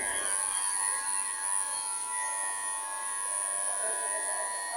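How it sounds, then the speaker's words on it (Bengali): An electric hair clipper cutting hair gives off a steady, thin, high buzzing hum that runs unbroken and fairly close throughout. "দেখেন, মেশিন দিয়ে চুল কাটছে।"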